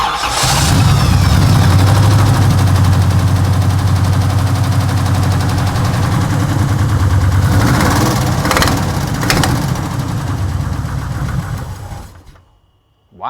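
A 1968 Camaro with distributor trouble fires up and runs with a loud, rough idle for about twelve seconds, a few blips of revving late on, then cuts off abruptly.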